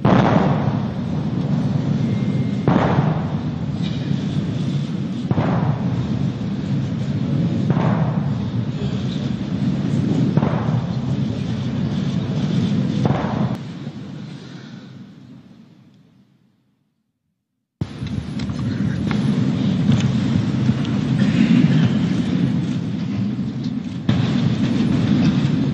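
Ceremonial 21-gun cannon salute for India's new president at his swearing-in, heard as five evenly spaced booming reports over a steady broad rumble, fading to a brief silence before the rumble resumes.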